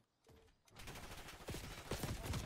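Rapid gun bursts ring out in a Black Ops 6 three-versus-three match, starting quietly and then building into dense, loud volleys of close fire.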